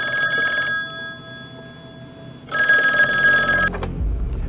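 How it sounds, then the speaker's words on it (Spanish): A telephone rings in two bursts of electronic bell tones, the first short and the second longer, separated by a quiet pause, then a closer clunk, as if the handset is lifted. "Y entonces suena el teléfono."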